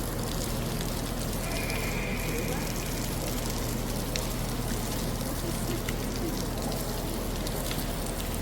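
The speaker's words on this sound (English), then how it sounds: "It's raining in." Rain falls at a railway station, a steady dense hiss of drops spattering on surfaces with a faint brief tone in the background, continuous and fairly close with no talk.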